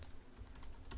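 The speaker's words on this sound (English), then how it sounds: "You're going to type in" Typing on a computer keyboard, a short burst of quick key taps heard close up and alone, with no voices.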